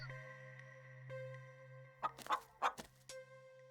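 Chicken clucking in the horror video game Scarlet Hollow: a few sharp, close clucks burst out in quick succession over a steady low ambient drone.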